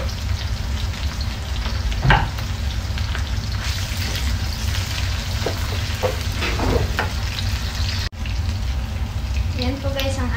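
White onion and garlic fry in hot oil in a pan, a loud, steady close-up sizzle with occasional stirring scrapes throughout and a brief break near the end.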